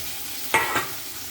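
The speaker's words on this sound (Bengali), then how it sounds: "এইবারে আমি একটু ঝিঙ্গাটা এই মাছের তেলে একটু ঝিঙ্গাটা ভেজে নেব।" Ridge gourd sizzling with a little salt in leftover fish oil, a steady faint hiss broken by two quick stirring scrapes.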